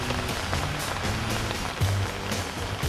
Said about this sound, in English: Rain don't hurt.